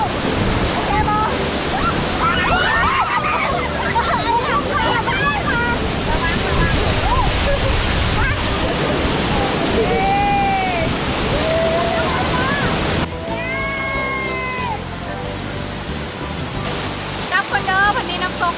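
Roadside waterfall in Xaysomboun, Laos, a loud continuous rushing roar of falling water heard close up, with people talking over it and some wind buffeting.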